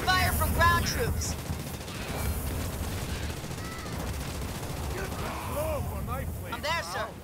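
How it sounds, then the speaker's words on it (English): Gunfire from ground troops in the video game Halo Wars 2, bursts of shots under continuous game ambience, with voice lines heard at the start and end. "I'm receiving fire from ground troops."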